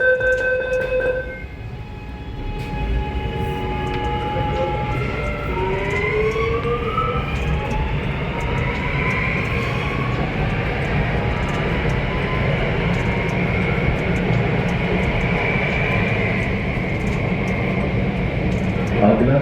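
A new RS17 Delhi Metro train on its opening-day ride between Majlis Park and Deepali Chowk runs along the rails. A rising electric motor whine fades into a steady, close, loud rolling rumble that lasts throughout.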